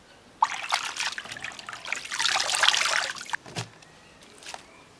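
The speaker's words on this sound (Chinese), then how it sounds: "晒过的黄瓜条再洗一下" Sun-dried cucumber strips being washed by hand in a basin of water, close splashing and trickling for a few seconds with a final splash before it quiets, no speech.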